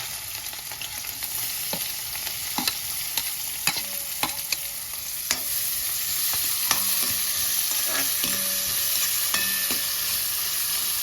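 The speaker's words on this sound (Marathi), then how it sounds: "कांदा थोडासा परतवून झाल्यानंतर" Onion frying in hot oil in a pan, a loud continuous sizzle close up with repeated spatula taps and scrapes as it is stirred.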